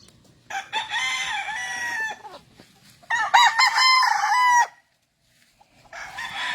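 Gamefowl roosters crow on a farm, two long, loud, harmonic calls close by with a short gap between them, then a third crow beginning at the end; no talking.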